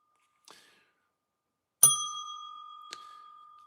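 A single bright bell ring with a long, steady ringing decay, preceded by a soft tap and followed by a light second strike.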